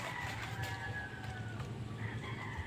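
Roosters and chickens kept as farm animals, a rooster crowing in long drawn calls over a steady bed of clucking hens, fairly close and continuous throughout.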